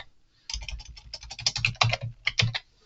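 Fingers tap out a quick, irregular run of keystrokes on a computer keyboard, close and clear, after a brief silent pause, with no talking.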